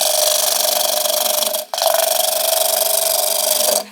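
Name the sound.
bowl gouge cutting timber on a wood lathe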